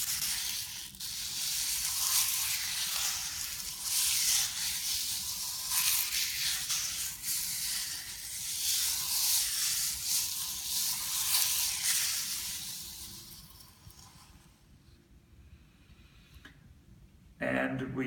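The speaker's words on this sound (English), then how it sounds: "this is a coarser sandpaper" Steady coarse scratching and rasping in long back-and-forth strokes, close and fairly loud, fading out near the end.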